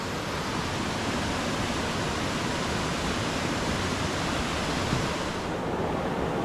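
Steady, loud rushing water fills the whole stretch on Yeavering Bell in the Cheviots, in rain, a constant broad roar like a fast stream or small falls close by, with no voices.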